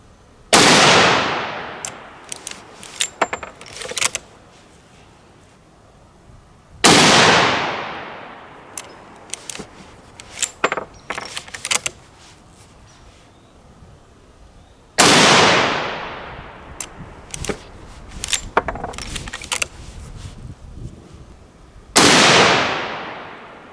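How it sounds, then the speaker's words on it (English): Four loud .30-30 rifle shots firing Hornady 150gr round-nose handloads at an outdoor range, spaced several seconds apart, each a sharp crack followed by a long echoing decay with small clicks and handling noises between. "I'm just going to shoot this group without making any scope adjustments."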